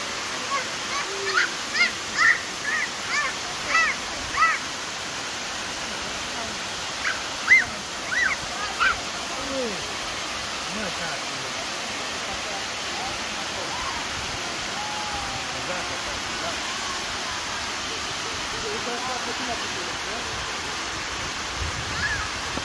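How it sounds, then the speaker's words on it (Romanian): Clocota waterfall in the Romanian countryside gives off a steady, broad rushing roar of falling water for the whole stretch, with a few brief voices early on. "am ajuns aici la cascada Clocota"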